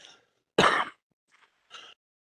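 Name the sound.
coughing from allergies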